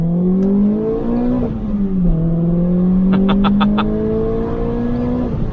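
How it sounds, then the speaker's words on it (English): A left-hand-drive Renault Clio R.S., heard from inside the cabin, accelerates hard on a public road. The engine note climbs through several gear changes, with brief drops at each shift, and a quick series of electronic beeps sounds midway. "So let's listen to the amazing acceleration."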